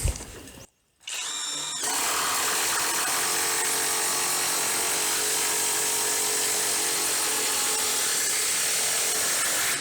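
A Dedra DED7147 brushless 450 Nm impact wrench drives a fastener into a wooden beam, starting with a brief burst, a short pause, then a loud, continuous close-up whirring hammering that runs to the end.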